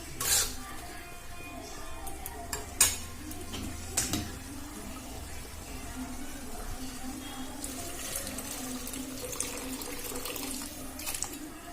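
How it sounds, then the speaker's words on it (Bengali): Water pours into a pot of chickpea lentils cooking in a kitchen, a steady running splash with occasional clinks of pots and utensils, close and continuous with no talk. "আমি এর মধ্যে এবার জল অ্যাড করে দেবো।"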